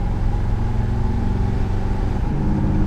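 A square-body truck rolls along on a test drive, its engine giving a steady, loud low rumble with a slight change in tone near the end, no voices over it.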